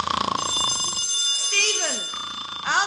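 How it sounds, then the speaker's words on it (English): An old-fashioned telephone bell ringing indoors, a rapid metallic trill heard under overlapping talk and other sounds, loud and close. "answer the phone"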